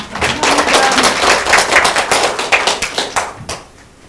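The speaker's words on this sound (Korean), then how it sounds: "다시 한번 박수 부탁드리겠습니다." Conference attendees at a consumer-society meeting clap by hand in distinct, crisp claps, loud and fairly close, thinning out toward the end.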